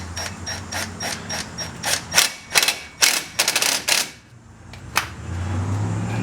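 A ratchet tightens a brake caliper bracket bolt on a 2009 Chevy Silverado 1500 front brake, giving a series of sharp, close clicks in quick bursts with short pauses between strokes over a low background hum.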